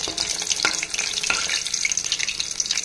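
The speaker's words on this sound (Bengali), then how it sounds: "এগুলোকে একটু বেশি করেই ফ্রাই করে নিচ্ছি, সিঙ্গেল ফ্রাই করে।" Food fries in a pan with a bright, dense crackling sizzle, close and steady, with a couple of soft stirring knocks.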